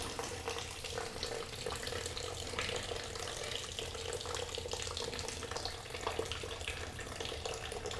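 Water runs steadily through a Samco radiator hose on a Husqvarna FE 501s motorcycle, a continuous close rushing and gurgling flow at an even level throughout, with no talking.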